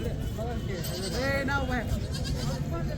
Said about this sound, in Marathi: बघा ही सगळ्या शेळ्या त्यांच्याच आहेत